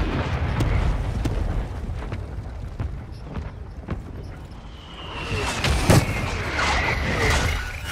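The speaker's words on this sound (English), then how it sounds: "it said the mortar strike killed me" A mortar strike explosion in Call of Duty, a deep boom with broadband rumble swelling around the middle of the clip over continuous game noise and scattered sharp impacts.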